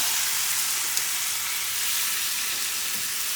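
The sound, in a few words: mushrooms frying in a pan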